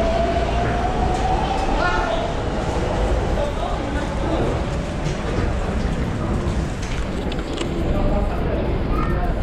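Commuter train ride in São Paulo, with a continuous loud rumble and rattle of the carriage, screeching wheel tones and crowd noise, and voices heard throughout.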